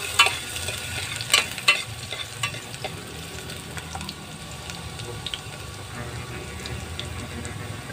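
Garlic sautés in hot oil in a pan, a soft continuous sizzle with several sharp clatters of a utensil against the pan near the start, then a steadier low frying hiss.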